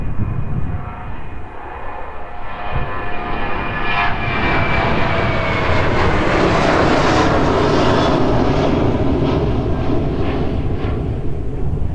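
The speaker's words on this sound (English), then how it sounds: "Picking up ever so slightly as this one rotates just behind the tree there." An airplane takes off at East Midlands Airport, its engines building into a loud steady roar that swells as it rotates and climbs away.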